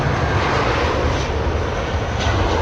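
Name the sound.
aircraft taking off at London Heathrow Airport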